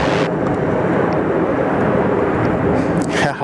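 An Etihad airliner rolls down a Sydney Airport runway for takeoff, a loud, steady, broadband jet roar that stays strong and unbroken throughout.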